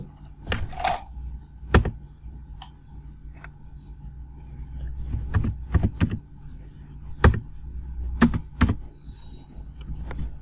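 Someone types HTML code on a computer keyboard, producing scattered, uneven clusters of close key clicks with short pauses between them over a quiet background hum.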